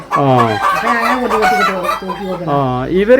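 Free-range native chickens cluck and crow close by, a rooster's call rising over steady hen clucking throughout, loud and continuous with no talk over it.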